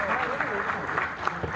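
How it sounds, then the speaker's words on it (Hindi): A theatre audience at the Arts Council in Karachi claps for a senior director, a brief patch of moderate clapping with a voice speaking over it. "ये तालियां, बहुत सारी तालियां हमारे सीनियर डायरेक्टर।"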